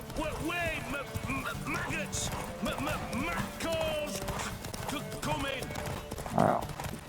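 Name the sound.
horse galloping in The Witcher 3 video game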